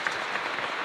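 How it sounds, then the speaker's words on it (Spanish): A church congregation at a Mass for the Solemnity of the Immaculate Conception, honoring the Virgin of Caacupé, applauds in a brief, steady wash of distant, faint clapping. "Y un fuerte aplauso entonces para todos nosotros"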